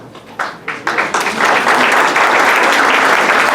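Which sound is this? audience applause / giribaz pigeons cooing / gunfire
audience applause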